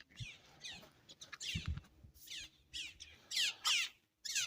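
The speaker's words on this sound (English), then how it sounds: "I heard some birds." Birds calling in a cemetery in Manchester, Jamaica: a series of short, bright chirping bursts at moderate distance, repeating irregularly over faint low background rumble and handling noise, with no talking.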